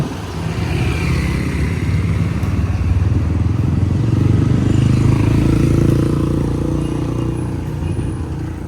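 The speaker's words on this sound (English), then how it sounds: "Motorcycles here are everywhere." Motorcycle engines drone and rumble steadily as traffic passes close by on a busy street in Puerto Princesa, Palawan, swelling louder midway then easing off slightly.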